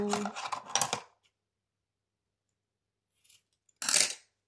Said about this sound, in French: Pif, pof, ciseaux.